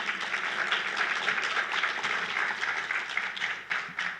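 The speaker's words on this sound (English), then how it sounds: "I want to give a round of applause for Reverend Francis Johnson for that amazing prayer that he gave" Audience at a city's State of the City address applauding a reverend after his opening prayer, a sustained, full crowd clapping that holds steady for about four seconds and tapers slightly near the end, with no talk over it.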